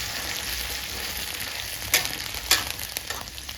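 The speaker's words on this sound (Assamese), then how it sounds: "এইখিনি ধুনীয়াকৈ আমি পূৰা একদম ফ্ৰাই কৰি ল'ম" Onion, ginger and garlic paste fries steadily in hot oil for a chicken leg masala gravy, a continuous close sizzle with two brief louder crackles or stirs near the middle.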